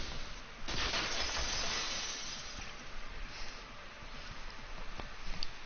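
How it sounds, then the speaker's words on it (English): A vase breaking apart, a sudden loud shatter followed by a spray of glassy crashing and scattered tinkling fragments that continue at a lower level, with a few late sharp clinks near the end. "If it wasn't the window, then what broke to make that sound? A vase."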